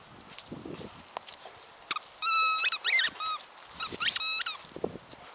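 An Airedale dog plays with his ball, giving high squeaky, whining bursts in two clusters amid soft scuffling and light thumps, fairly close and moderately loud.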